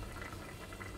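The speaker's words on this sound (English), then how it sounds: "Oil is boiling." Cooking oil boils as it heats in a pan for sabudana khichadi, a faint, steady bubbling fizz with soft crackles heard on its own.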